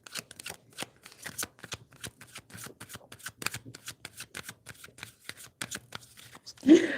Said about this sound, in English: I'm shuffling a lot and I don't want to force it